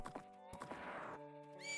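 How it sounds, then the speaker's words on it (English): A horse neighs in Majora's Mask, a short whinny layered with hoofbeats and game music, fairly loud and alone without talk. "That's my horse sound."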